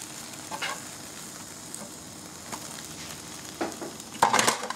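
A thin crepe batter sets and is flipped in a non-stick pan: a steady low sizzle runs throughout, with a few soft scrapes and a brighter clatter of the turn near the end.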